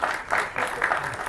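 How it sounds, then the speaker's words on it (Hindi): A crowd at a song launch event claps in short, uneven swells, with a faint voice briefly audible under the clapping. "एक बार फिर से दोस्तों जोरदार तालियां"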